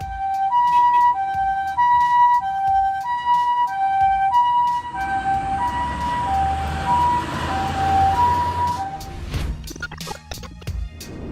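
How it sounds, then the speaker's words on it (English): An ambulance siren wails in a repeating two-tone pattern as the vehicle passes along a narrow road in Japan, with traffic rumbling beneath it. The siren is loud at first, then turns rougher and fades as it moves off. "the drivers find the opportunity to let the ambulance pass."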